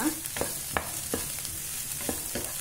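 Mixed vegetables and green peas fry in a pan for vegetable oats, a soft sizzle broken by about half a dozen scraping strokes of a spoon stirring at an unhurried pace.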